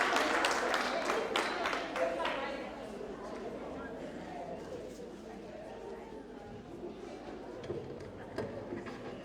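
Audience applause at a tenth-anniversary celebration, dense clapping at the start that thins and fades over the first few seconds, giving way to crowd murmur and a voice talking over the room.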